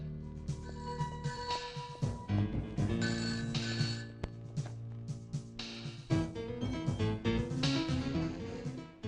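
A telephone rings repeatedly in bursts in a police station over a dense background of music and clatter, loud and close.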